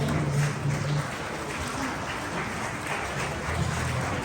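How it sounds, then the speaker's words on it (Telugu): An audience at an NTR 100th birthday celebration in Adelaide claps as one dense, continuous wash of many hands, steady and moderately loud throughout, with no clear individual beats. "సో ఒక్కసారి అందరూ చప్పట్లు కొట్టవలసిందిగా కోరుతున్నాం"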